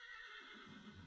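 A horse in a modded Minecraft survival world lets out a bright, wavering whinny that drops into a lower snort, brief and close, with no talk over it.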